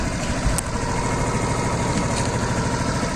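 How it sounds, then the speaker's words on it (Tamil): A 2020 Suzuki Access scooter engine idles steadily at close range, a soft continuous hum with a faint rattle and a brief click near the start, with no talking over it. "வண்டி ரன்னிங்கில் தான் இருக்குது."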